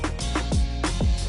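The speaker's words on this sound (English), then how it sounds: "What you're hearing is the sound of the KTM RC16 2022 version" A KTM RC16 2022 MotoGP racing motorcycle with a four-cylinder 1,000 cc engine in The Crew Motorfest, snarling loudly with rapid revs, crackles and quick downshift-like drops over a short burst.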